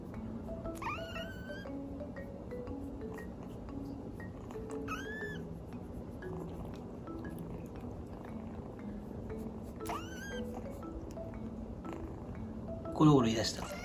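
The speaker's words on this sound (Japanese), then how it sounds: "ゴロゴロ言い出した。" A Munchkin kitten being petted purrs in a soft, steady close-up rumble, broken now and then by high, thin meows.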